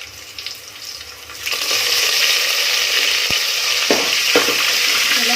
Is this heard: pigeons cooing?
no